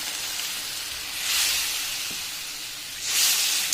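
Water poured into a hot pan while cooking puti fish gives a steady hiss and sizzle, swelling twice into louder bursts of steam, close and without talk.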